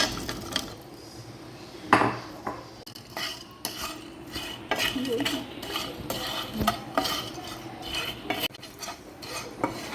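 Peeled baby potatoes tipped into a pan and stirred with a spoon, with close clattering, scraping and knocking against the pan and a faint sizzle underneath, continuous with no talk.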